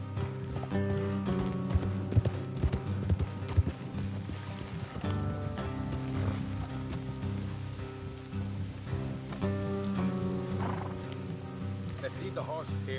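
Several horses' hooves clip-clop along a path in Red Dead Redemption 2, a steady trotting rhythm of hollow knocks under soft ambient music, with a voice speaking over it now and then.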